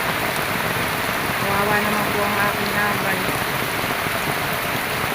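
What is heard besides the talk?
heavy rain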